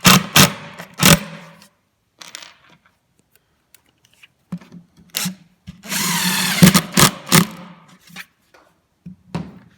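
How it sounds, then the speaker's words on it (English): Power drill driving a screw into a melamine cabinet panel during cabinet assembly, heard as several short close bursts of whirring with quiet gaps, including one longer run of a few seconds. "make sure that your drill bit is almost as long as your screw. Otherwise it'll split the melamine."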